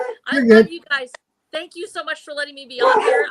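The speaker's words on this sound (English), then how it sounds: "Because you can hear my dogs barking." Dogs bark in short, yappy bursts mixed in with a person speaking close by, the barking overlapping the talk throughout.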